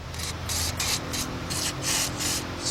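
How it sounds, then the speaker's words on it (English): WD-40 aerosol sprayed onto engine bolts of a 2004 Chevy Monte Carlo 3.4 V6 during intake manifold and head gasket work: a series of short, close hissing bursts in steady rhythm, with no talking. "we're gonna take some WD-40 and we're gonna spray them up"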